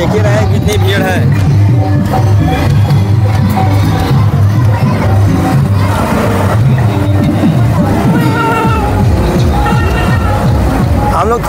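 Crowd bustle at the Thekma market fair: a loud, continuous babble of many voices, shuffling and movement, with music and a nearby voice speaking over the crowd throughout.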